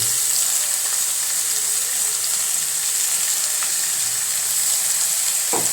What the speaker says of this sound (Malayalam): ഇത് നന്നായിട്ട് മൊരിയട്ടെ. നന്നായിട്ട് മൊരിയണ്ട, ഒന്ന് വാടി കിട്ടിയാൽ മതിയേ.